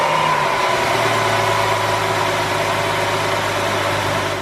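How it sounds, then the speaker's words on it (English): A BMW 760Li with the N73 V12 engine idles steadily after an oil change, a continuous smooth hum heard up close with no voices over it. "get the engine fired up and let it idle for 10 to 15 minutes or so"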